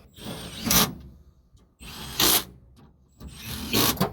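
A ratchet tightens tailgate bolts on a Chevy, heard as three separate bursts of rapid mechanical clicking close up, with short quiet gaps between them and no speech.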